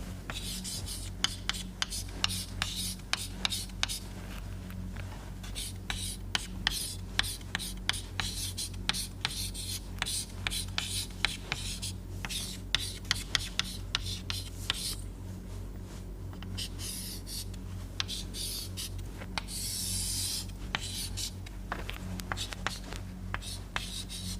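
Chalk scratching and tapping on a lecture board as equations for oxidation kinetics are written, a long run of short, irregular strokes and clicks at moderate distance, with occasional speech from the lecturer.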